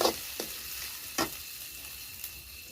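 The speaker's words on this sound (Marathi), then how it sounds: "टमाटा पण आहे ना कांद्यामध्ये चांगलं फ्राय करून घेऊ" Tomatoes and onions fry in a pan with a quiet, steady sizzle, broken by three brief scraping stirs of a spoon, with no one speaking.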